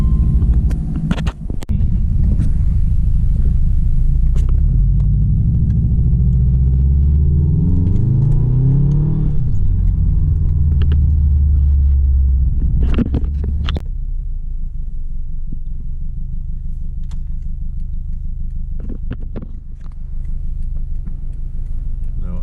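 Subaru engine fitted with an aftermarket downpipe gives a loud, deep, close rumble that swells and shifts pitch as it revs, then settles into a steady idle drone. Voices are heard briefly over it.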